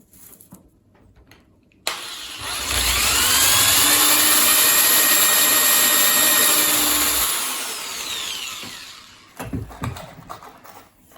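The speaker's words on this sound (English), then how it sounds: "So now I can drill the second hole and get that screw in as well." A power drill whirs up abruptly, runs loud and strained for several seconds as it drives a 1 5/8 inch screw into wood, then winds down, followed by a few handling knocks.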